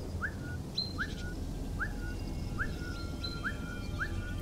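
A character whistles in the Velvet Assassin video game, a faint series of short, evenly spaced rising whistle notes repeating about every half second over low background noise.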